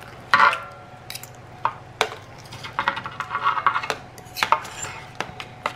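A knife slices into a stuffed London broil top round steak on a board, giving a few close, soft cutting strokes and light scrapes over a low background hum.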